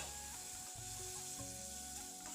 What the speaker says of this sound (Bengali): নাড়াচাড়া করে মশলাটা খুব ভালো করে ভেজে নিয়েছি